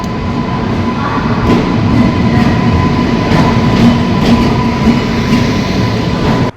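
A train rumbles at Agra Fort railway station, a loud, continuous low roar with a steady tonal hum and periodic clanking clicks from the wheels and cars, close by and uninterrupted.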